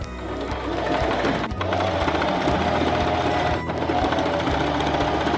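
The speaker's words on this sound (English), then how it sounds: "take this to the sewing machine and just sew it right here all the way" A sewing machine runs a finishing stitch across Nike sock fabric with fast, even needle chatter and a motor whir, close and steady, pausing briefly twice before carrying on.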